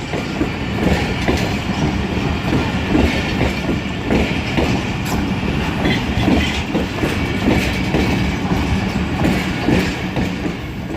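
Rehman Baba Express passenger train hauled by a GU40 locomotive, a loud continuous rumble of rolling coaches with clickety-clack wheel beats on the rails and faint metallic squeals, heard from on board.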